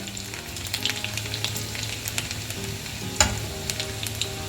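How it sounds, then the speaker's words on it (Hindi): Steady crackling sizzle of cumin and garlic frying in hot oil, with a brief louder pop partway through and faint stirring clatter. "अब मैं तेल में डालूंगी थोड़ा सा जीरा, जरा सा, और फिर इसी जीरे के साथ में इसमें डाल दूंगी लहसुन।"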